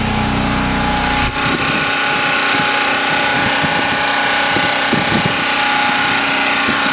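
A Champion 3400 watt RV-ready portable generator runs steadily, a loud, close, continuous engine drone with a constant hum and no pauses while it powers appliances.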